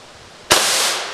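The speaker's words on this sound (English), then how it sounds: "We're going to shoot at it and see what happens." One powerful crack from a 1000-joule airgun fired at a police riot shield propped between a tree and a wall. It hits abruptly after a quiet hiss, then leaves a loud, sustained rushing tail.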